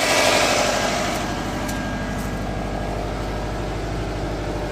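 A sports car engine idles steadily with no HHO cell running, giving a continuous low, even rumble at moderate, close range with no voices.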